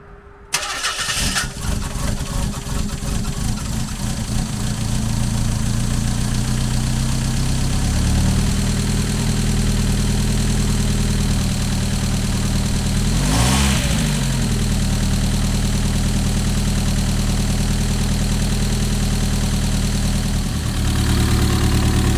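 A Mazda MX-5 engine with a misfire cranks and starts, then settles into a steady, close idle with a slightly uneven, stumbling rhythm.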